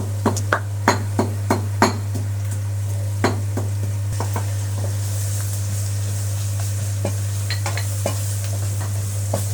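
Onions fry with ginger garlic paste in a pan, a constant sizzle under quick metal stirring clinks and scrapes, several sharp taps bunched at the start, then sparser stirring over a steady background hum.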